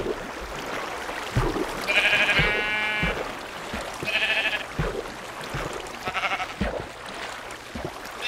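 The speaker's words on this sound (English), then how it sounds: "Damn sheep." Sheep in the Minecraft video game bleat in several short, loud, wavering calls, spaced a second or two apart over low background rumble and clicks, with no talking.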